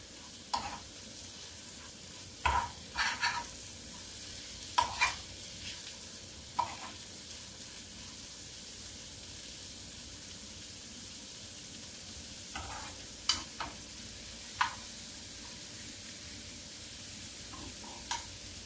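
Chopped amaranth stalk greens are stir-fried with dried fish for a bharta, a soft steady sizzle in the pan broken by scattered scraping clinks of the spatula stirring, quiet and close with no talking.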